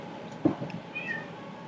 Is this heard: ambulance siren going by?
no